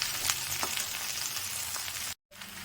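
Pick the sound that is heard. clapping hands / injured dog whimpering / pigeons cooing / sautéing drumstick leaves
sautéing drumstick leaves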